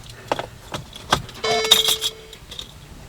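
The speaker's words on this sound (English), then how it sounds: "Now I'm just going to turn on my car." A key jangles and clicks in the ignition of a Mercedes-Benz C-Class, followed by a short whirring start-up chime and soft electronic tones from the cabin, close and fairly quiet with no talking.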